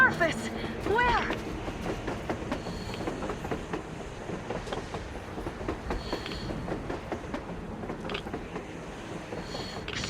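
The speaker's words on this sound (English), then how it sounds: "A train! A damn train on the surface!" Train rolling past on the surface in the post-apocalyptic Metro Exodus game, its wheels clattering and cars creaking in a steady rhythm, with loud bursts early on and a raised voice shouting over it.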